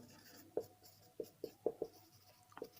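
Chalk or marker writing on a board during a mathematics lecture: about six short, distinct strokes and taps in an uneven rhythm, fairly faint, over a low room hum.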